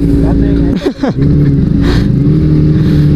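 Kawasaki ZX25R motorcycle fitted with an Arrow exhaust idles with a steady, loud engine rumble throughout, with a brief dip and blip in the middle while people talk nearby.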